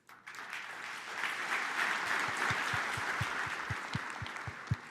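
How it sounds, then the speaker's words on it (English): Audience at a live AI tech show giving a polite round of golf claps, a soft steady patter of many hands rising after a moment and holding evenly, with a few distinct nearby claps toward the end. "Yeah, golf claps."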